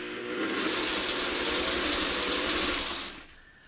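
Sewing machine stitching quilt pieces for a triple shoofly block: a steady, close, rapid mechanical whir with fast rhythmic needle chatter, running alone for about three seconds before cutting off.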